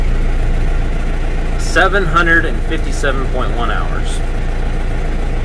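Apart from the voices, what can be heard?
John Deere 6420 tractor engine starting and idling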